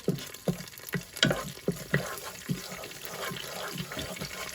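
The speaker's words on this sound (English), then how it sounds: "I will add this curry leaves, and also this dried red chilies, and I will keep on stirring it" Curry leaves and dried red chilies sizzle and crackle in hot oil while a spoon stirs them, giving irregular scraping pops over a steady frying hiss, close up with no voices.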